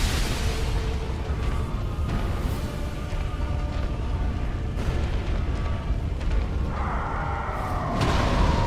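A frostbite explosion erupts during the Sister Friede boss fight in Dark Souls III, a loud, continuous roaring rumble with scattered sharp hits and a rising burst near the end.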